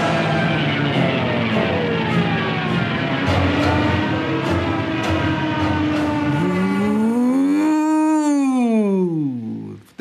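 World War II dive-bombers scream as they plunge: a loud, sustained, whining howl whose pitch climbs and then falls before cutting off abruptly at the end.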